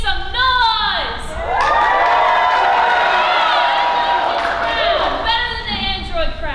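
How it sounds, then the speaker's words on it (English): Comedy club crowd at West Aurora erupting in loud, sustained cheering, whooping and shouting that swells for several seconds, then settles into scattered yells. "let me hear you make some noise!"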